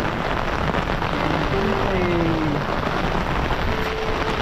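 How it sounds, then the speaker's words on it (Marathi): Heavy rain pouring down in a village, a dense, steady hiss of water close by that stays loud throughout, with a faint voice-like tone briefly in the middle. "खूपच पाऊस झाला आहे। अवघ्या 2 तासात मुसळधार असा पाऊस।"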